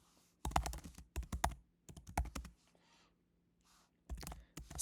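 Bursts of typing on a computer keyboard, close and crisp, with rapid clustered keystrokes separated by short pauses, as a function is entered into an online graphing calculator.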